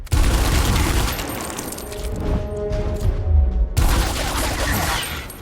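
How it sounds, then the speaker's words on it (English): Gunfire in the video game Gears Tactics: loud bursts of shooting with crashing impacts, a sustained barrage that briefly thins before another heavy volley. "so we're just going to have to open fire"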